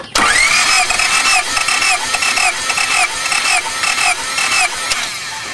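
An engine cranks over without firing during a cylinder compression test, the starter whirring loudly and close in a steady rhythmic pulse of compression strokes for several seconds, then winding down.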